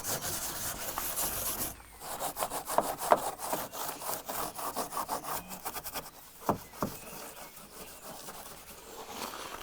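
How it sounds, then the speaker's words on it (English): A stiff brush scrubs paint off an object in rapid back-and-forth rasping strokes, close and steady in bursts with short pauses between them. "It's actually quite nice to scrub one of these."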